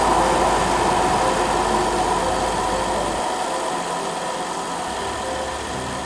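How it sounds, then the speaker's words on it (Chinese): A car engine idles steadily after its high-pressure gasoline fuel pump has been replaced, a loud continuous hum and vibration that holds an even level throughout, with no voices. "再让它怠速跑一下"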